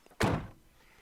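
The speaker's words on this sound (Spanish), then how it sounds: "Y el sonido de la puerta al cerrarla no es nada satisfactorio." A Land Rover Defender door swings shut with a single close, heavy thunk that fades quickly.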